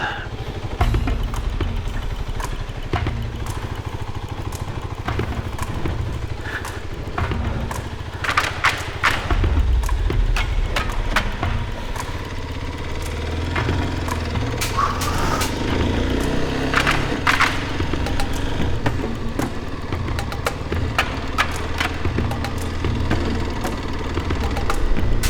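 A motorcycle ridden at night on a rough, unpaved track far from paved roads in Morocco, its engine droning steadily throughout with repeated thumps and knocks from dips, close and continuous.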